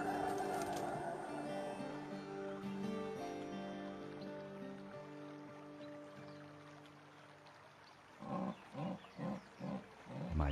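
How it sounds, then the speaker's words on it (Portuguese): A jaguar in the Brazilian Pantanal gives a series of four or five deep, rhythmic grunting roars near the end, following a long stretch of soft, tonal music-like background. "Outra onça fêmea está chamando por um macho."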